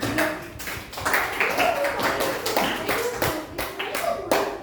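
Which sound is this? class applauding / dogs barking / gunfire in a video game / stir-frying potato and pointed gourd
class applauding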